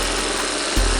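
Small two-stroke engine of a cheap garage-sale leaf blower idling low, a steady close rumble with a slight shift in pitch near the end.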